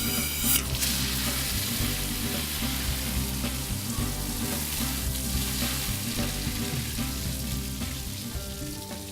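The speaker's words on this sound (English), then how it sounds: "Now we just got to water it." A garden hose pours water onto a newly planted tree, giving a steady close splashing and hissing rush that stays loud and even throughout, with no talk over it.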